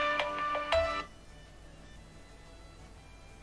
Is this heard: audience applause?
no